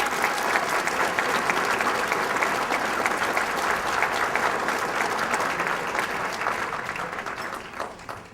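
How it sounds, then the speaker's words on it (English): A large audience at an evening charity event applauds sponsors, donors and volunteers with a dense, steady round of clapping that holds for about eight seconds before tapering off at the end. "will you also join me in a round of applause for all of the sponsors, donors, and volunteers that have made this event possible this evening?"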